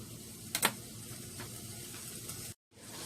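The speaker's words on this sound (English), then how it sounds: "We are browning this ground beef" Ground beef browning in a covered pan, a soft steady sizzle broken by a couple of brief clinks and scrapes, quiet with no talk.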